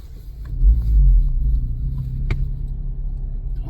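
A car crawling along in first gear at walking pace through traffic, its engine a low steady rumble with a brief swell of revving, heard from inside the cabin.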